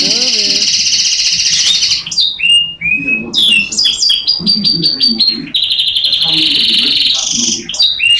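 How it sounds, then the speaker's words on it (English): Chirps and tweets from a simulated bird in The Binding of Isaac: Repentance, with bright, rapid, looping calls repeating loud and close over several seconds. Faint low game sounds sit underneath. "I would think that that was like a simulated bird sound"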